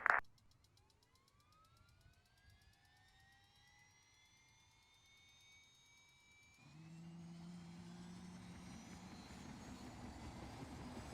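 Aircraft engine in Arma 3 spooling up, a rising multi-toned turbine whine climbing steadily in pitch for several seconds before giving way to a broad, sustained engine roar and rumble, no voices.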